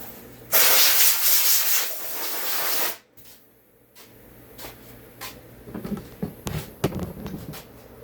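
Compressed air blasts over small-engine parts during a community 2511 clone engine build: a loud, close hissing burst of about two and a half seconds. After it come quieter scattered clicks and handling noises.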